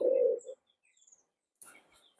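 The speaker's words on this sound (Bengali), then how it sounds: "দেখেন এক সেট মৌসুরি কবুতর আছে" Mussoorie pigeons in a high-flying pigeon loft give a short, low coo, then the loft falls quiet before a few faint, scattered chirps and rustles; soft and fairly close, with no voices.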